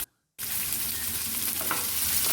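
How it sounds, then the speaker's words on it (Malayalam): Onions with curry leaves sauté in a hot pan, a steady, close, dense sizzle and crackle that starts abruptly after a moment of silence and continues evenly. "സവാള ഒന്ന് നന്നായി ഒന്ന് വഴറ്റിയെടുക്കാം."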